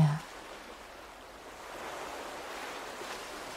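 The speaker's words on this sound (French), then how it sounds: "Tu entends ces vagues qui vont et qui viennent le long de la plage." Ocean waves wash back and forth along a sandy beach in a soft, steady, distant roar of surf that swells slightly toward the end, with no voices.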